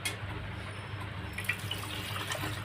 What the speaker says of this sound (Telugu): దీనిలో వాటర్ యాడ్ చేసుకున్నానండి.